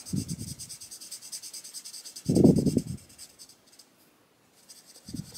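Alcohol markers scratch across paper in short bursts of rubbing strokes, close and clear, separated by pauses, with no talking.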